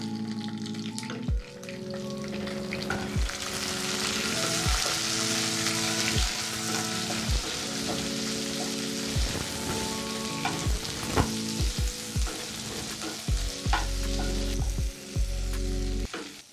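Chopped tomato sizzles steadily in hot oil tempered with cumin, with a continuous close frying hiss and repeated clanks and scrapes of stirring against the pan.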